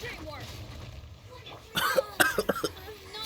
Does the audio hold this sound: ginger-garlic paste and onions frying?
no